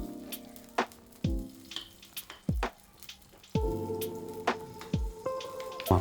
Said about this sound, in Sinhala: තෙල් රත් වුණාට පස්සේ සුදු ලුණු අමු මිරිස් කරපිංචා ඔය ටික දාලා තෙලේ හොඳට තෙම්පරාදු කරගන්න